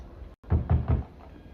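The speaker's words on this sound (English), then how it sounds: "Ryan Gosling knocks on her door to coax her out." Three firm knocks on a door in the mobile narrative game The Wreck, evenly spaced and close, following a brief dip to silence, with a faint fourth tap trailing after.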